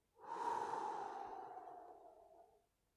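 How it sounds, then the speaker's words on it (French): A single long, deep exhale through the mouth, close and soft, swelling quickly then fading out over about two seconds, heard alone. "prendre une profonde inspiration"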